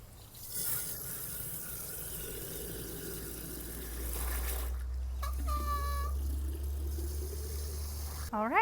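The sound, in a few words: water filling a terracotta watering pot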